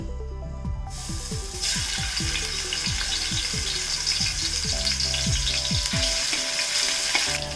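Crushed ginger and garlic paste fries loudly in a hot pan for Kerala-style fried rice, a steady close sizzle with repeated scraping stirs and no talking.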